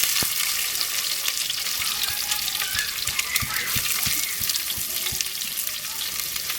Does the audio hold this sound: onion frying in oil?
yes